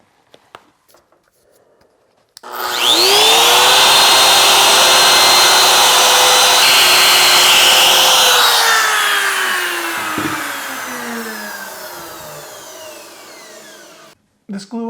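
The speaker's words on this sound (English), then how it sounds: "Gonna do some freehand routing to make a mortise for the tenon." A handheld wood router cuts a mortise freehand for a tenon, spinning up with a sudden loud whine, holding a steady high scream for several seconds as it bites the wood, then winding down and trailing off to near silence.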